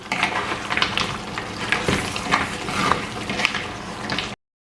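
Mutton rib curry sizzles and fries steadily in a pan while being stirred, with scraping stir strokes recurring throughout, close and fairly loud, no talking.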